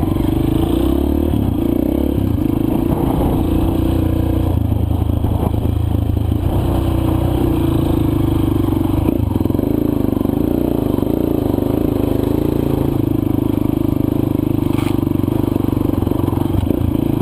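A new dirt bike ridden on a dry, loose, motorcycle-only trail, its engine droning steadily and close throughout, with clattering and scraping from rocks and dirt under the tyres.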